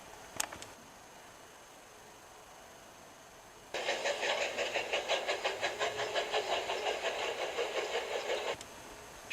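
A cartoon steam engine puffs away in a rapid, regular chuff of hissing bursts that starts abruptly after a quiet stretch and runs for several seconds before stopping, preceded by a couple of faint clicks.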